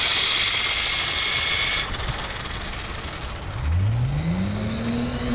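A Nikko Hurricane RC car runs its stock 380 electric motor, a high whine that drops off midway and then rises in pitch again as it spins back up, close and fairly loud with no talk.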